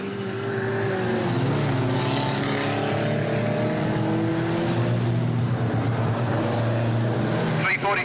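Ministox stock cars racing at a Warton Stock Car Club meeting, engines droning steadily and loudly throughout as the cars circle, with a commentator talking over the top.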